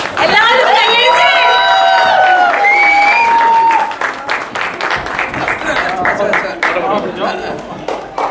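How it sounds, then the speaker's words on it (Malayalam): An audience at the Shalom 2026 event applauding, with loud crowd clapping over a raised voice at first, then the clapping continuing more loosely with scattered calls and chatter. "എല്ലാവരും കൈയടിച്ച്."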